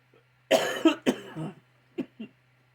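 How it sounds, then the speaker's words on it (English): A man coughs in a quick burst of several harsh coughs, close up, followed by two softer trailing coughs. "Man, I gotta stop coughing this morning."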